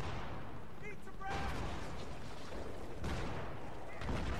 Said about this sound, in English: One of their guys on their side has pulled out a mortar.